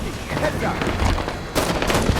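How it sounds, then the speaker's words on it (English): Enemy gunfire in Halo 5: Warzone, a burst of shots with a heavier impact around the midpoint, set under a busy game mix with voice chatter. "Enemy fire!"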